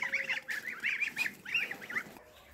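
Young geese on a rural homestead give a brisk series of close, nasal honks in uneven bursts, heard alone without speech.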